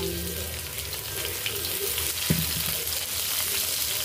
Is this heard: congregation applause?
no